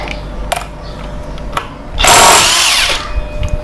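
An impact wrench loosens the CVT pulley nut on an automatic scooter during a service, sounding as a loud rattling burst about a second long after a few faint clicks, close by, with no speech.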